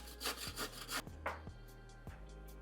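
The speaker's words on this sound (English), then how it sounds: "We're just going to grate our zucchini." Zucchini grated on the large side of a grater, a series of close rhythmic rasping strokes, about five scrapes in quick succession.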